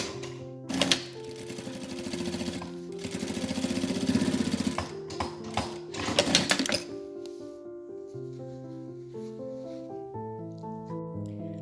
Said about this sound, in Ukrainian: Припуски шва настрочити на гульфик.